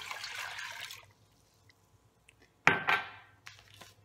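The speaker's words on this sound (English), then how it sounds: "Now I'm gonna add in 2 cups of water." Two cups of water pour into an Instant Pot holding cooked meat, a loud splashing gush at the start, then a quiet pause and a second sharper burst of pouring and sloshing that tapers off.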